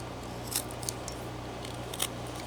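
A whittling knife cuts into wood while carving a figure, producing a few short crisp snicks spaced apart over a low steady hum, close and faint.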